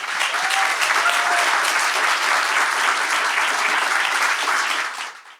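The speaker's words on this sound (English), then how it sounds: "give them a big round of applause." An audience at a festival and fundraiser for Palestine with talks and poetry gives speakers a big round of applause, dense, loud, sustained clapping that holds steady for about five seconds before fading out at the end.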